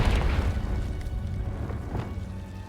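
Confringo spell explosion in the Hogwarts Legacy video game, a deep rumbling boom that bursts loudly at first then rolls on and slowly fades, with no voices.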